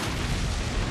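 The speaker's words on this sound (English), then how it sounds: "The first explosion sent him into the second explosion." Explosions in Resident Evil 5 rumble continuously through a dense, loud, low-heavy roar lasting about a second, with no distinct separate blasts standing out.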